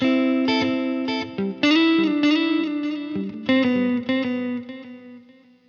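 Electric guitar played through a Line 6 Helix with delay placed before reverb: a series of distorted, chorused chords and notes, each attack trailed by echoing repeats and a wash of reverb that fades out at the end.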